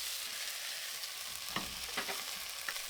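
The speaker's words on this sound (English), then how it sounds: "As soon as the garlic starts to be golden, add the onions. Stir for 30 seconds." Chopped garlic and onions stir-fry in oil in a pan for Cantonese chow mein, giving a steady close sizzle with a few soft scraping stirs near the end and no talking.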